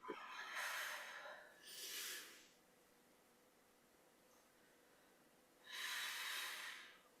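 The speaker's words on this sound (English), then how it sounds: "Breathing out through pursed lips." Breathing out through pursed lips during a breathing exercise class, three soft, airy exhalations, each lasting about a second, close and quiet with gaps of near silence between them.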